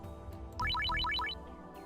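A phone ringtone sounds in the Steins;Gate 0 visual novel, a quick series of bright rising chimes repeated several times in a row, clear over quiet background music.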